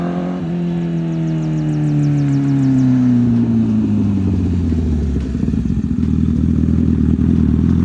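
A Honda CBR1000RR motorcycle with a quick shifter roars close by. Its engine pitch sweeps down through a gear change, then settles into a loud, rough, pulsing drone.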